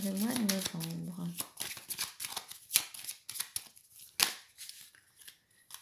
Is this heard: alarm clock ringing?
no